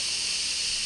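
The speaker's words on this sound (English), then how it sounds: "So all the steam is coming out." Steam hisses steadily from an Instant Pot on quick pressure release after cooking mashed potatoes, a constant, fairly faint rush that continues throughout with no voices.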